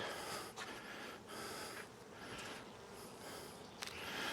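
Honeybees buzz steadily around a hive just after a Demaree split. The hum is a faint, continuous drone with a few brief louder passes, and no voices.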